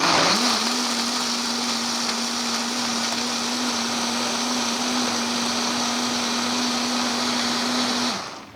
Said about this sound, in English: first I like to just pulse it so the blender gets used to the ingredients